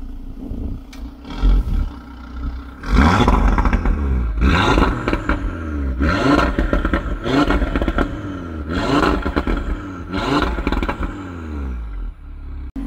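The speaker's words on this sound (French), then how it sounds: "Démarrage de la RS3. Eh, ça pétarade." An Audi RS3 engine fires up and idles roughly, with a series of loud, rhythmic revs and crackling exhaust pops and bangs repeating about every one to two seconds, close by and with no talking.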